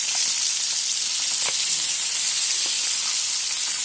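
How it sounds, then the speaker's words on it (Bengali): Bata fish frying in hot oil, a steady loud sizzle and hiss filling the whole stretch, with a few faint clicks of the pan and no voices. "এই মাছটা আমার ভাজা হয়ে গেছে। ভালো করে ভাজতে হবে।"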